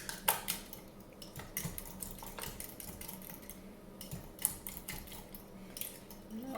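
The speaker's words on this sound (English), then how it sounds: "And then we blend again with the whisk." Frittata mixture being whisked in a bowl, producing rapid light clinking and tapping of the whisk against the sides in irregular bursts, close but quiet.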